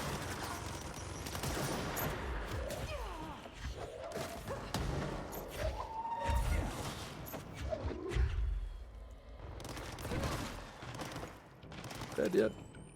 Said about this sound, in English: Please stop shooting at me, okay?